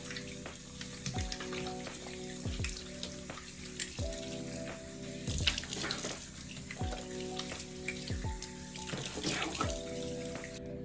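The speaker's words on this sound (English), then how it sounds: "I'm gonna go ahead and rinse it with cold water only." Cold water runs steadily from a tap into a sink while a face is rinsed, a close, continuous hissing splash broken by repeated cupped-hand splashes and a low background hum.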